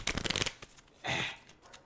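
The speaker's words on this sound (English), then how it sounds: "You're doing a hard shuffle." A deck of cards being shuffled hard: a rapid riffle burst of clicking cards, then a softer sliding bridge of the deck close by.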